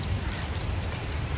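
Rain falls steadily outdoors near a fish market, a dense, even hiss with a low rumble, heard alone.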